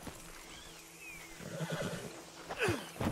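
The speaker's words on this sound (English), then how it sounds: "Load Anders onto the back of your horse there, and we'll take him to Sheriff Gray." A horse in Red Dead Redemption 2 lets out a loud, close whinny, with hoof clip-clops and shuffling around it and a second neigh near the end.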